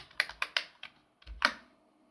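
Python code typed on a computer keyboard: a quick burst of about eight crisp, close keystrokes in an uneven rhythm, a short pause, then one last sharper key press, with no voices.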